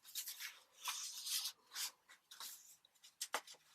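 Sheets of paper are folded and creased by hand for measuring before tearing, giving quiet, close rubbing and swishing strokes in several short bursts, with no talking.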